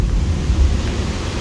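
The swollen San Antonio river rushes in flood after heavy rain, giving a steady, broad roar of churning water with a low rumble and no voices.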